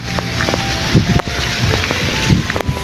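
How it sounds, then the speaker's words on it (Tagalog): Strong wind roars steadily across the microphone, a loud continuous rush with gusty buffeting throughout. "Sobrang lakas ng hangin dito"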